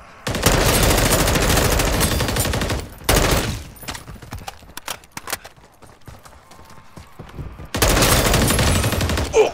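Loud sustained automatic gunfire in Modern Warfare 3 Zombies, long rattling bursts at the start and end with scattered single shots and clatter between them.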